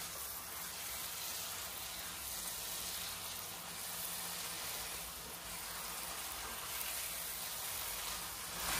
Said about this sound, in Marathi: 5 मिनिट आपल्याला हाय फ्लेमवर चांगलंच परतून घ्यायचं आहे।